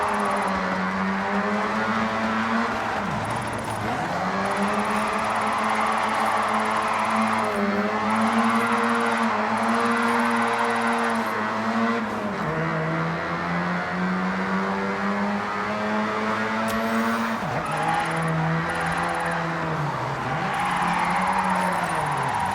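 Car drifting in the video game Forza Horizon 6 in Japan: a continuous engine drone with repeated rev dips and swells as the car slides through corners, steady and close throughout with no talk.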